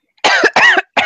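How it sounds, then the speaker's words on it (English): Two close, harsh coughs in quick succession followed by the start of a third, loud and near, with no talk around them. "I'm going to be coughing a lot, probably."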